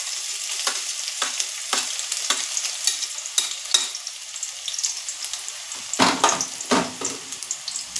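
Finely chopped onion fries in hot oil on a gas stove for a leftover-roti chow mein, a bright crackling sizzle punctuated by repeated spatula scrapes and knocks against the pan.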